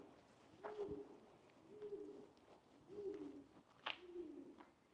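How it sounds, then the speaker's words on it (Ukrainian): Soft, low pigeon coos repeat in a steady rhythm, four phrases at a moderate distance, over quiet background noise in a courtyard in Odesa. "Голуби десь співають"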